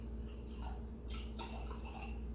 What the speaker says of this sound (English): I'm going to pour some Aquafina in there.